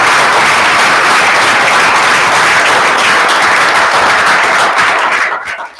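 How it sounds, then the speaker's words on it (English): An audience at a Council Rock school board meeting bursts into loud, dense applause, a full wash of many hands clapping that holds steady for several seconds before tapering off at the end. "So how about one final round of applause for"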